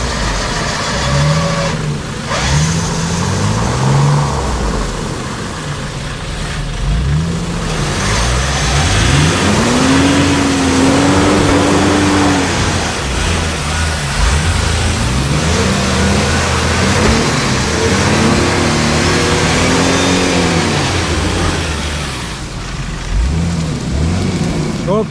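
An SUV's engine revving hard while towing another SUV out of deep sand, a loud sustained roar with rising and falling pitch sweeps, engine strain over constant broadband noise, with occasional voices faintly in the background.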